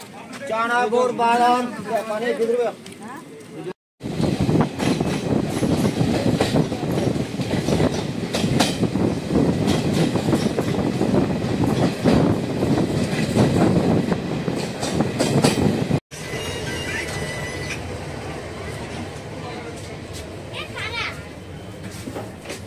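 A Humsafar Express running from Sealdah to Agartala rumbles loud and close with rhythmic wheel clatter, a short gap, then a quieter steady roll, with children's voices and chatter heard around it.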